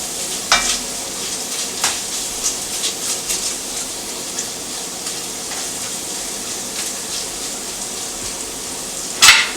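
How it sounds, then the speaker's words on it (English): Chopped onion sweats and sizzles in a lidded pot for Thanksgiving collard greens, a steady close hiss with a few soft stirring scrapes and a sharper clatter near the end. "We're gonna sweat the onion."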